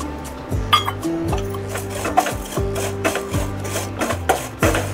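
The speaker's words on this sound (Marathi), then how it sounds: "पॅनमध्ये मी अर्धा चमचा तूप टाकत आहे। आता शेवया आपल्याला थोड्याशा भाजून घ्यायच्या आहेत।" Vermicelli roasting in half a spoon of ghee over a low flame in a pan, stirred with a wooden spatula, giving repeated scraping and rubbing strokes with light clinks against the pan, close and clear.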